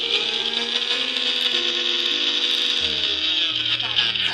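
A kitchen mixer grinder runs briefly on dry masala with no water added, giving a steady, loud, high-pitched motor whine that holds throughout with a slight change in tone near the end.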